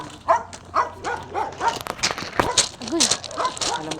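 A dog barks and whimpers in a quick series of sharp yips and whines, close and fairly loud, as people talk over it.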